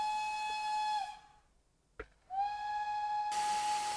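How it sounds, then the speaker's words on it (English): A steam locomotive whistle from the SR U Class in a train simulator game sounds in two long, steady, shrill blasts, split by a brief gap and a soft hiss of steam. "We also have the whistles, which are space keys"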